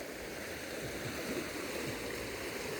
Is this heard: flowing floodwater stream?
yes